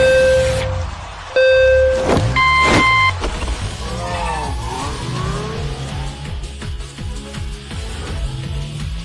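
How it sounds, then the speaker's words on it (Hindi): Race cars roar past with loud engine revving, tire squeals and skidding, the engine pitch rising and falling continuously throughout, close and dominant with no talk. "दोनों रेस कार्स मैदान में उतर चुकी हैं।"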